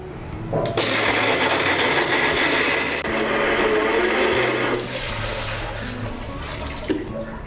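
A mixer grinder grinding peanuts and jaggery whirs loudly and steadily for several seconds, then drops to a lower grinding drone with small rattles.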